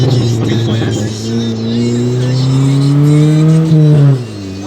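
A tuned Fiat Bravo 1.8 Stage 2 running on ethanol revs hard and loud, its engine note holding steady and slowly rising in pitch for about four seconds before cutting off sharply.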